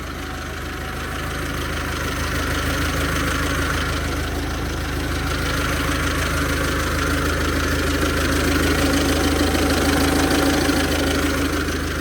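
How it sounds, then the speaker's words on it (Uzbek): A T28 tractor engine idles smoothly and steadily at close range, a continuous even rumble with no extra knocking and no talk over it. "Motorlardan ham hech qanaqa ortiq shovqini yo'q. Tekis holatda ishlab turibdi."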